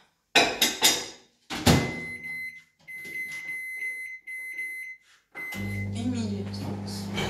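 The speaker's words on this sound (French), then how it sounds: "on met tout ça à fondre au micro-ondes pendant 1 minute 30." A microwave oven melts butter. A few thuds of the door and buttons come first, then a brief beep, and the oven starts with a steady loud hum.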